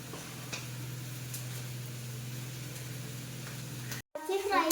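Clam meat frying in a pan, a steady close sizzle with a low hum, broken by a brief cut near the end before clattering stir sounds.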